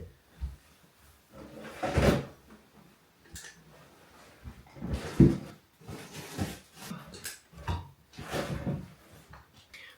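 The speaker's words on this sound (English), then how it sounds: "I need to get some stuff out the freezer" A home kitchen freezer door is pulled open and items are taken out, giving a few soft clunks and bumps, with rustling in between and quiet pauses.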